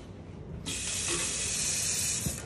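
A kitchen tap in an empty apartment turns on after a brief quiet moment and water gushes steadily into the sink, close and loud for the rest of the clip.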